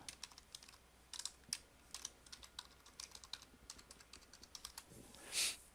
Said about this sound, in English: Type my password in.